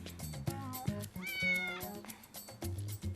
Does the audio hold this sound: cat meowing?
yes